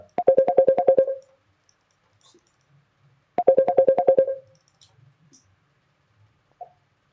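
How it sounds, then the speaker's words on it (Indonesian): A phone ringtone for an incoming call plays two loud bursts of rapid, evenly spaced electronic beeps, each about a second long, separated by a pause of roughly two seconds, with faint clicks between them and no talk. "teman-teman ada telepon, teman nelpon malah"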